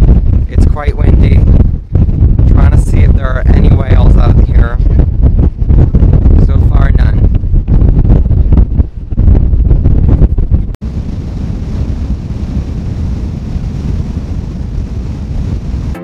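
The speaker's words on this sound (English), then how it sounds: "It's quite windy." Strong wind on a ship's helipad deck crossing the Atlantic buffets the microphone with a heavy low rumble throughout, broken briefly mid-way, then continuing as a steady roaring wind noise.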